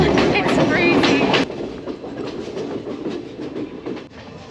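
Train running on rails between Kandy and Ella in Sri Lanka, a steady rumbling clatter heard from inside the carriage, with brief voices near the start and no talk afterward.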